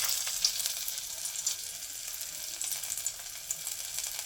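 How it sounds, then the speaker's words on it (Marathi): Kothimbir vadi, steamed coriander fritters, frying in oil, a faint continuous hiss of sizzling with small crackles and no voices. "इथे मी तळून घेणार आहे. मी फक्त फ्राय करणार आहे तेलामध्ये."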